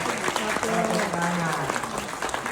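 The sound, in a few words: applause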